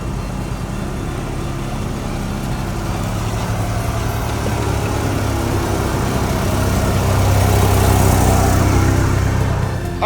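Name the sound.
Mitsubishi Mighty Max truck driving on a test drive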